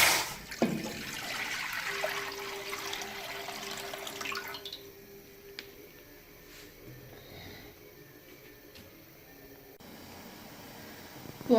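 Water pours steadily into a cooking pot to boil rice for Punjabi-style carrot sweet rice, a close rushing splash lasting several seconds before dropping to quiet room tone.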